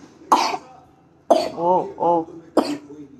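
Three sharp coughs from a young girl, spaced about a second apart, with brief voiced gasps between the second and third.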